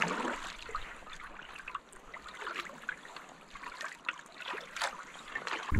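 Kayak paddle strokes dip and drip water in a light, irregular trickle, with splashes in the lee behind an island while heading into a 12-knot headwind; close and fairly quiet, with no voices.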